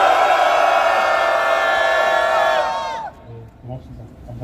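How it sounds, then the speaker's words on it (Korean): A crowd at an anti-war peace rally lets out a loud, sustained unison roar for about three seconds, then it breaks off into scattered, quieter voices. "크게 함성 시작!"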